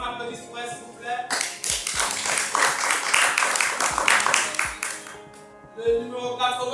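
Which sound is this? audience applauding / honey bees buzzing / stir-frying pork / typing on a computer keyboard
audience applauding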